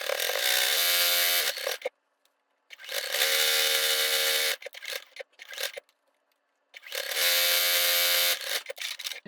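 A sewing machine chain pieces quilt pieces for Dresden plate placemats cut from vintage quilts, running in three loud, steady bursts of rapid stitching separated by short pauses and fabric handling.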